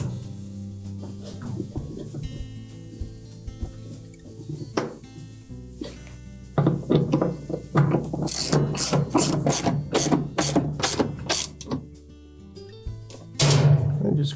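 A ratchet tightens the bolts on a Whirlpool washer transmission, with loud, close clicking bursts in quick runs, separated by pauses and occasional metallic clinks.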